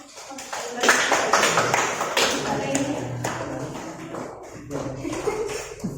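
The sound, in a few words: classroom applause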